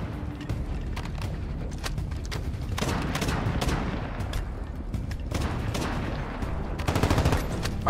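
Video game gunfire, rapid bursts of shots with loud cracks and booms, dense and close, firing in clusters throughout with brief pauses between volleys.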